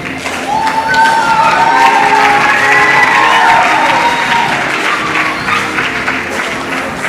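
Audience at a school event applauding and cheering steadily, a dense wash of clapping mixed with shouts and a few whistles, loud and sustained throughout.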